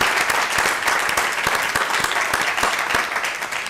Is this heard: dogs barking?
no